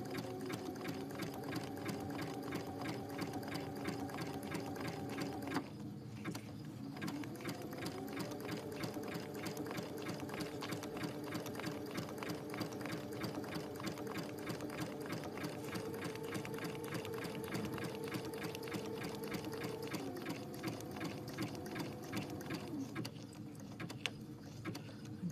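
Sewing machine stitching reverse applique, a continuous close rapid needle whir that briefly pauses and changes speed a couple of times as the fabric is pivoted.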